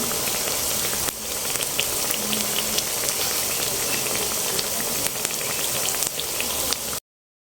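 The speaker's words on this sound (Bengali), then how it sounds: "এই যে আলুর চপ গেলি তো ভাজা হয়ে গেছে" Continuous crackling sizzle of potato chops frying in oil, steady and fairly loud throughout with small pops, then cutting off abruptly.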